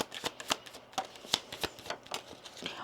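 Oracle cards shuffled by hand: a close, rapid run of papery riffles and slaps in an irregular rhythm, steady throughout with no talking.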